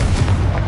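A short, muffled blast from the Confringo spell in the Hogwarts Legacy video game, a single dull boom lasting under a second.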